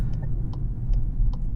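A Volkswagen GLI engine responds as the gas pedal is pressed, giving a steady low hum and rumble. Light ticking sounds recur at regular intervals over it.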